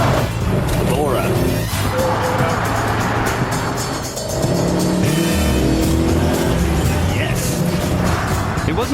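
A 1970s Maserati Bora supercar engine drones loudly and steadily close by, with revving surges and a passing swell, under a voice talking over it.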